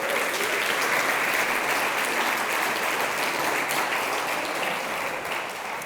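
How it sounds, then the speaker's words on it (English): A crowd applauds steadily throughout, dense even clapping that fades slightly at the end, with no voices above it. "So give yourselves a round of applause."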